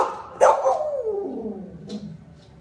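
A dog barking sound effect played as a radio shout-out: one loud bark followed by a drawn-out falling howl, then a fainter yip, close and clear.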